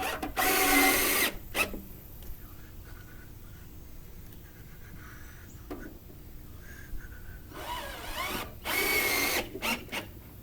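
A power drill drives screws into the hinge of MoRryde RV steps in several short bursts. There is one longer whir at the start, then a quiet pause, then a cluster of quick spins near the end, heard close up with no talking.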